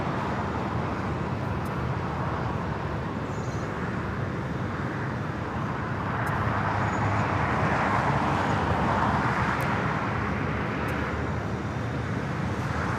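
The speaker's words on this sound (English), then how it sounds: "Next heavy arrival on the north side, the Japan Airlines Dreamliner coming in from Osaka, Japan." A Japan Airlines Boeing Dreamliner arriving at LAX from Osaka produces a continuous broad jet roar on approach, swelling slightly louder midway amid steady background airport noise.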